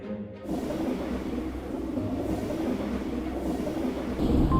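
A train runs on its rails with a steady, close rumble and faint clickety-clack that fills the whole stretch without a break, growing a little louder near the end.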